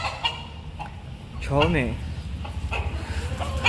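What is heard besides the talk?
chickens clucking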